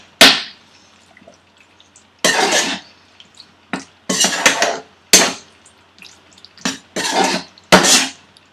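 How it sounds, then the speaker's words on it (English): Bacon being stirred with spices in a pan for a bacon jalfrezi: intermittent bursts of scraping and clattering, close and fairly loud, separated by short quiet gaps, with no talking. "just give this a nice mix so that your bacon will get nicely soaked and all the spices would get soaked"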